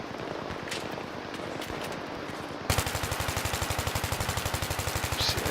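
Battlefield 3 gunfire: after a quieter stretch of scattered shots, a loud rapid automatic weapon opens up close and fires a long sustained burst of evenly spaced rounds.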